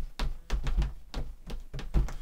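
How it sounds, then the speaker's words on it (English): Children stomp their feet in a rough beat, a series of heavy, low, booming thuds spaced unevenly over a couple of seconds, fairly close and with no talking. "let me see you stomp your feet"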